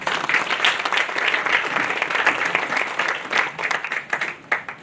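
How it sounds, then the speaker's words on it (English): An audience at a book launch event claps steadily and loudly with a dense, crackling texture. The applause rises and falls slightly over several seconds. "A big clap for him"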